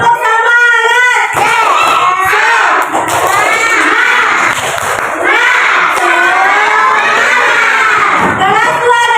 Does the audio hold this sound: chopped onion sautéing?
no